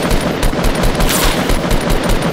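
Rapid automatic gunfire in Fortnite, loud dense bursts of shots in quick succession filling the whole moment with no pauses.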